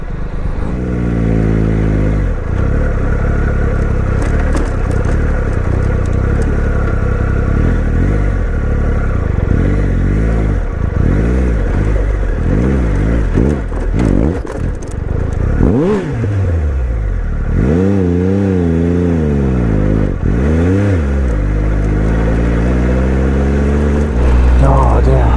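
Motorcycle descending a steep drop and then opening the throttle to climb, engine revving up and down loudly and close, mixed with clatter and people talking over it.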